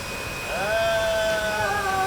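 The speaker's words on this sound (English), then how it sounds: "A blow dryer produces a lot of wind." A handheld hair blow dryer switches on, its motor whine rising in pitch over a steady rush of blown air, close and fairly loud.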